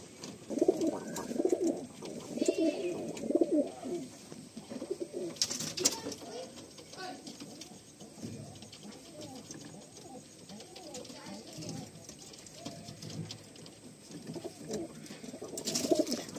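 Madrasi pigeons coo softly in repeated low rolling phrases, with wing flaps and light bird rustles around them and a person speaking at moments in between.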